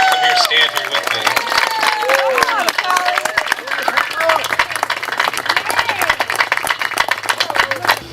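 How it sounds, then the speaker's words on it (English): A crowd at an outdoor depot naming ceremony claps steadily for the project manager, with dense, sustained applause close to the listener and voices mixed in. "I want to give him a round of applause."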